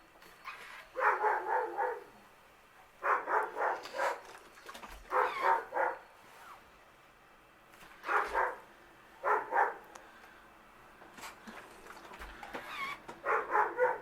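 Dogs bark in short bursts of several yaps each, repeated throughout with pauses between, fairly close and moderately loud.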